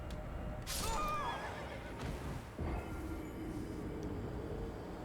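A horse whinnies sharply in the Elden Ring video game after dropping from a height, one loud neigh over steady rumbling background ambience.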